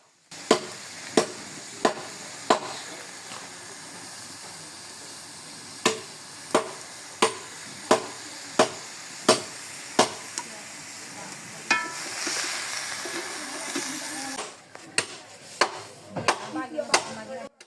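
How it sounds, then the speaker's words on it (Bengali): Chopping a tree branch outdoors, a run of sharp, evenly spaced blade strikes at close range, pausing briefly amid background hiss and resuming with quicker blows toward the end. "ওখান থেকে একটা গাছের ঢাল সঞ্জয়কে বলছিলাম কেটে দিতে ও কেটে দিচ্ছে"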